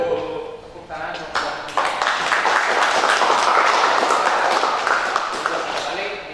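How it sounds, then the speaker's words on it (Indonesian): Audience applause in a classroom after a student group's presentation in an automotive engineering teacher-training session, a dense steady clapping that builds quickly and holds for several seconds, close and fairly loud. "Ya, tepuk tangan."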